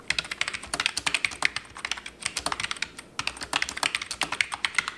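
Someone types on an original iMac keyboard under repair. The keys clatter in quick, uneven bursts, loud and close, with short pauses between runs.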